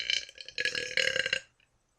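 A single long, loud human burp rolls out in several pulses, then stops abruptly, with no talking.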